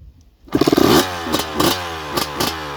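A KTM 250 SX motorcycle engine catches and revs up sharply, then blips through several quick throttle bursts, loud and close with a raspy, buzzing tone.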